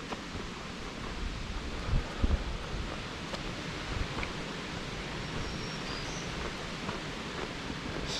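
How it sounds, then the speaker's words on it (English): Strong, steady wind roars across a hiking trail on the Appalachian Trail, a continuous broadband rush with a few louder gusts and buffeting thumps against the microphone, no voices. "Still continues to be nice and cool and very, very windy."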